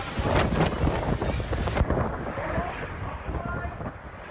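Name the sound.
Hurricane Irma winds on Anguilla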